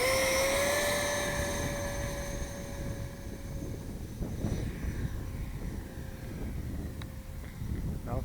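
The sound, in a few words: FreeWing ME262 RC jet plane taking off and flying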